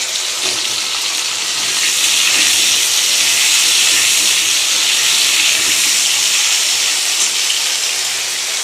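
Vegetables with cut potato and tomato being stirred in a hot pan, producing a loud, continuous hissing sizzle that swells slightly midway and holds steady, with no talking.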